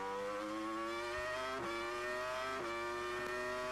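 A 2002 Formula One car accelerates out of a hairpin, its screaming engine rising in pitch through three rapid upshifts, heard steady and fairly distant.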